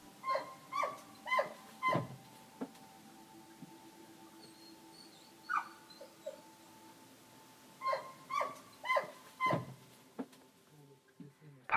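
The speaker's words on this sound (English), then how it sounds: "It's quiet, except for the odd howling from the zone dogs outside in the car park." Stray dogs roaming a car park in the Chernobyl exclusion zone, heard outdoors at night as several bursts of barking and yelping howls in clusters, mid-distance, with quiet gaps between.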